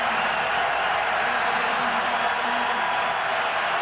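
Crowd at a 2003 college football game between Tennessee and South Carolina, a loud, dense, continuous roar from a full stadium holding steady without breaks.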